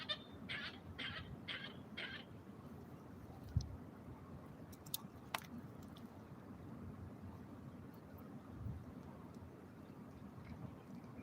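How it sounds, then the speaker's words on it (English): Waterfowl at a quiet forest lake, a few short nasal calls early on, then sparse distant honks and clicks over a faint, steady outdoor hush. "We've got the ducks here."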